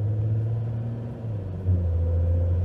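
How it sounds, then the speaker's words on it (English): Citroen C6 with a 2.7 twin-turbo diesel engine heard while driving, a deep, gruff multi-cylinder rumble that holds steady, dips slightly, then swells again as the car pulls. "That's a proper agricultural, but multi-cylinder diesel noise."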